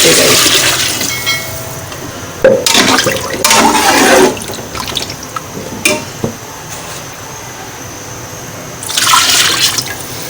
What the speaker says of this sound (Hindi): मैं इसके अंदर ये पानी डाल रही हूँ गोश्त गलाने के लिए